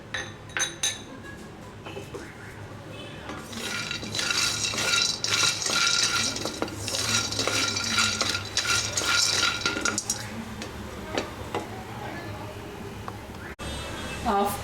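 Peanuts dry roast in a pan on the stove, with busy rattling, clinking and scraping as they are stirred. A person talks over the sound.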